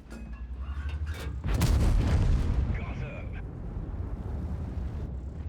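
A tank's main gun fires in the video game World of Tanks, one loud, close boom with a rumbling tail that fades over a few seconds, with a voice talking underneath.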